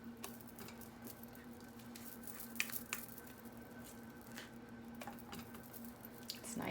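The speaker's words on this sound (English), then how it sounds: "we're just going to get all this yummy filling into our shell" Keto key lime cheesecake filling spooned into a crust, faint soft squishing and wet dabs with occasional light taps of the spoon, quiet and close with no talk.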